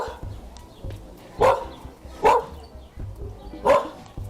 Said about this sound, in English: Nice dog. Shh.